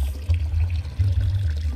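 Water sloshes and splashes in a basin used for washing clothes by hand, close and fairly loud, with uneven swishing surges and low rumbling movement and no talking.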